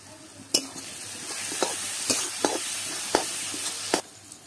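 Garlic cloves stirred while frying in a pan for egg biryani, with a spoon scraping and clacking in irregular strokes over a soft continuous sizzle.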